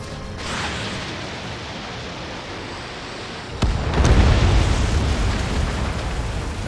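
An enemy bomber explodes in Ace Combat 7, a sudden loud blast partway through that leaves a rumbling, decaying roar over the continuous jet noise.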